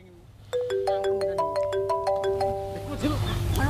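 A mobile phone ringtone starts abruptly and plays a loud, close, repeating melody of bright tones over a low background hum.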